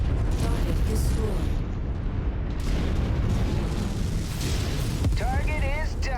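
Explosions and heavy booms from enemy mechs being destroyed in MechWarrior 5 with Clan Invasion mods, dense rumbling blasts running the whole way, with a voice speaking over the battle noise.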